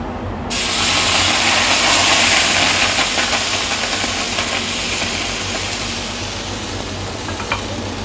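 Pumpkin dosa batter sizzles steadily on a hot tawa, a loud, continuous frying hiss that starts abruptly and holds for several seconds without talk.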